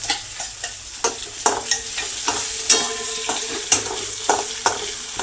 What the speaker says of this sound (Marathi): त्यामध्ये आता आपण ही कुटलेली मिरची आणि लसूण परतून घेऊया